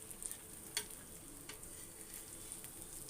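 Spiced egg masala fries in oil in a pan over a medium flame, giving a quiet, steady sizzle with faint crackles and a few soft pops.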